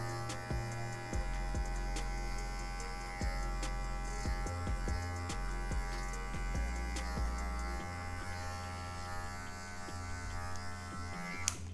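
Electric hair clippers buzz steadily while fading afro hair, set to a zero guard, a continuous close motor drone with brief pitch dips and pauses as the blade passes over the scalp.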